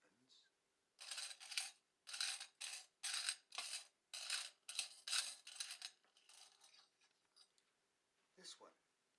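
Metal keys on a ring jingle and clink as they are handled, in a run of bright, rhythmic rattling bursts close to the listener, then tapering into softer scattered clinks with a brief faint voice near the end.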